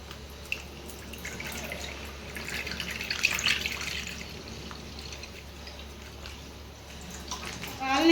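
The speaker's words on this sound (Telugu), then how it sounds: "ఇప్పుడైతే పాలు పోసుకుందాం" Milk pours into a pan on the stove, a soft, faint liquid rush that swells in the middle over a low steady background hum.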